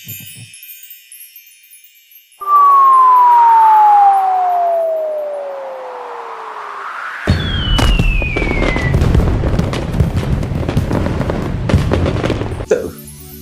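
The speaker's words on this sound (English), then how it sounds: "First with a glitter sound effect, falling sound effects, and a bunch of fireworks sound effects." Layered synthetic sound effects from CapCut: a shimmering glitter sparkle, then a long descending falling whistle, followed by a burst of loud fireworks with crackling bangs and a rising whistle, all close and prominent without talk.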